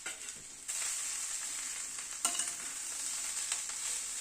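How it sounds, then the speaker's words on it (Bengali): Dal and vegetables for khichdi are stirred in a hot pan with a spatula, a steady sizzle broken by a few scraping strokes, close and fairly quiet, with no voices. "একটুখানি 2-4 মিনিট একটু নাড়াচাড়া করে নিচ্ছি।"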